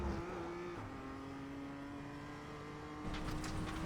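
A BMW M2 race car in the iRacing sim on the Charlotte Roval accelerates, its engine tone climbing steadily through a gear change before a louder burst of revving near the end.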